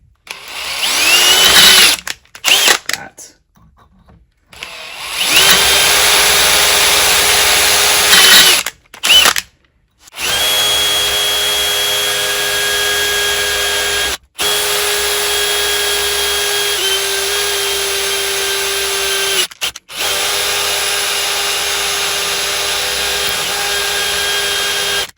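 A power drill bores a hole during a Colt M16A1 parts kit build. It runs loud and close in several long, steady whining bursts with short pauses and restarts between them.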